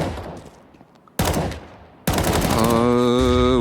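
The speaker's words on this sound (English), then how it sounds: "Annihilation tanks a scout shot." Sharp, loud shots in the video game Counter-Strike 2 during a professional ESL Pro League match, one crisp report followed by a second heavy blast with a lingering tail, plus a tonal in-game sound afterward.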